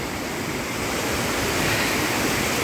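Bomburu Ella waterfall in Sri Lanka pours down, a loud, dense, unbroken roar of falling water close at hand with no voices.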